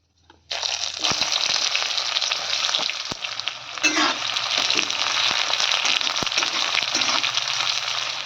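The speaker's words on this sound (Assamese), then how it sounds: "এফালে বন্ধুসকল পিঁয়াজটো একদম ধুনীয়া কৰি ভাজা গৈছে" Onion frying in hot oil with whole cumin, dried chilli and bay leaf, a loud steady sizzle that starts abruptly and continues, with occasional stirring scrapes.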